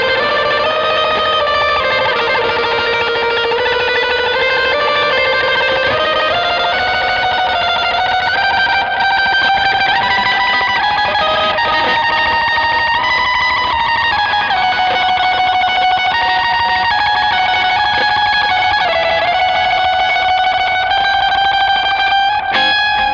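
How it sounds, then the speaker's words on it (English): Electric guitar tremolo picking a rapid, continuous melodic line through a delay with many repeats, loud, distorted and sustained throughout with no talking. "we're going from using the tremolo arm to tremolo picking"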